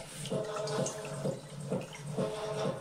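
Water trickles and pours into a bowl to dissolve yeast for whole-grain five-cereal pizza dough, a soft, close, slightly rhythmic splashing and gurgling with no voices over it.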